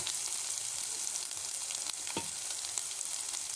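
Chopped spring onions and grated carrot frying in a pan for street-style veg manchurian, a steady close hiss of sizzling oil with an occasional faint scrape of the spatula.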